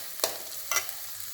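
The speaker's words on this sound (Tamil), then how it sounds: "சும்மா லேசாக ஒரு வதக்கு வதக்கிட்டு சிம்மில் வச்சுட்டு நம்ம சாஸ் ஊற்ற போகிறோம்" Green chillies being sautéed in a pan for Gobi Manchurian: two quick, separate stirring scrapes rise over a faint, steady background sizzle, with no voices.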